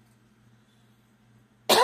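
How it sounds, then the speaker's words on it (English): A single sharp cough breaks out near the end, loud and close after near-silence, while someone works on vintage-style Halloween wall crafts of colored cardstock. "Excuse the cough."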